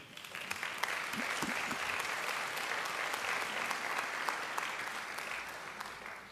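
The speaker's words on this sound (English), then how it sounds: "I think they deserve a great round of applause as well." Sustained applause from a large audience fills a graduation hall, a steady dense wash of many hands clapping at moderate distance, holding evenly throughout without any speech over it.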